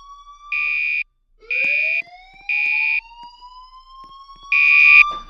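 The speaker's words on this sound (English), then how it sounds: "A fire alarm has been reported in the building." Inside a building, a fire alarm sounds in four loud, evenly spaced electronic tone bursts about a second each, with a rising whoop-like sweep running faintly beneath them.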